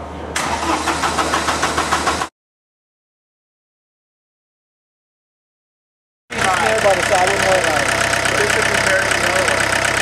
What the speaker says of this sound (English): This is the key to start it, so here we go.